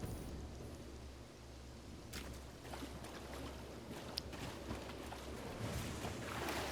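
Player character's footsteps splashing through water in the Satisfactory video game, a steady low sloshing wash with a few brief sharper splashes, quiet and close, no voices.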